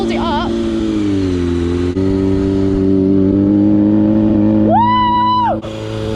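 A motorcycle engine idles and revs while the bike is ridden in snow, a loud steady drone with a sharp rising rev near the end, under overlapping talk.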